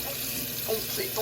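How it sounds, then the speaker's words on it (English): Sink water runs into a Toto portable washlet bottle as it is refilled, a brief, soft, steady gush with slight gurgles near the end. "And you fill it back up with water."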